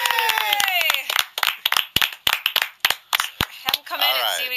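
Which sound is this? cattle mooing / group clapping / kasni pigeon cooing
group clapping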